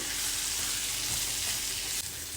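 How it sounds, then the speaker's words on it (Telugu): Three hundred grams of trimmed, tender okra stir-fry in a kadai, giving a soft, even hiss of frying with a faint knock near the end and no voices. "తలలు తోకలు తీసేసిన బెండకాయలు ఇవి మూడు వందల గ్రాముల బెండకాయలండి కడాయిలో వేసుకొని మంచిగా అన్నీ బాగా కలుపుకోవాలి"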